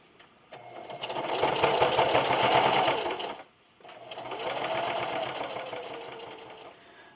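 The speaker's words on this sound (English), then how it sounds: "I'm going to flip it around and just do one more seam all the way around." A sewing machine runs a seam around a fabric hot pad for a cast iron skillet handle, two steady whirring bursts of stitching separated by a brief pause, close and clear with no talk.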